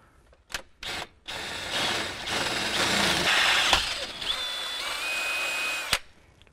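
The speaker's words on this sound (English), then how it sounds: "Next up, we're going to drill our 23/64 hole." Power drill boring a 23/64 hole for a 1/4-20 rib nut during an alternator install: a few short trigger bursts, then a sustained whine of drilling for about four seconds, ending with a sharp click.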